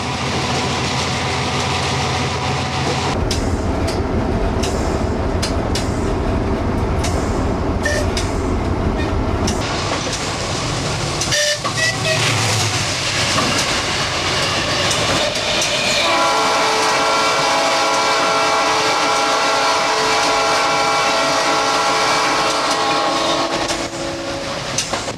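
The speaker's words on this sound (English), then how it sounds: "Air whistles were common on Soviet-era diesels, so these were added to used GE locomotives that went to Estonia." Air whistles fitted to used GE diesel locomotives in Estonia sound in loud, sustained tonal blasts over engine and rail noise, with a shift to a different chord partway through.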